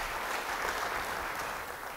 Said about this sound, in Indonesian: Beri tepuk tangan sekali lagi bagi dia.